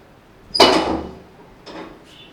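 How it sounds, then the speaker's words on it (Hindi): The door of a small backyard bird farm swings open with one loud scraping, rattling burst that fades away. A softer second scrape follows, then a faint short squeak. "चलें जी फ्रेंड्स, हमने दरवाज़ा खोल दिया है।"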